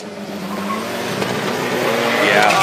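An all-wheel-drive race car launches hard off the line at a drag race, its engine note rising in pitch over a broad roar with tyre noise, growing louder as it pulls away.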